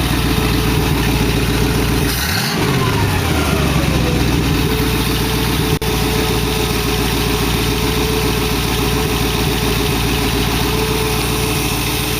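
A car engine with dual carburetors, linked non-progressively, idles loudly and steadily with a lumpy, throbbing rhythm, close up, briefly blipped early on before settling back to a constant idle.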